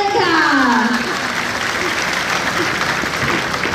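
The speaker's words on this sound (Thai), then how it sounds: "ขอเสียงปรบมืออีกสักครั้งด้วยค่ะ" An audience claps loudly and steadily, with a voice speaking over the opening second before the applause carries on alone, after a Thai small-unit military tactical demonstration by an infantry battalion.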